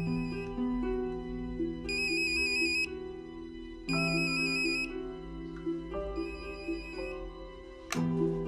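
Mobile phone ringtone ringing in a home, a bright electronic melody repeating in bursts of about a second or two, steady and moderately loud with no voices over it.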